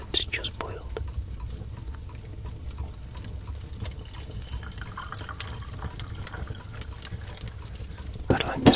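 Fresh, just-boiled coffee poured into a cup in an Old West setting: a soft, steady liquid trickle, quiet and close, with faint whispering over it.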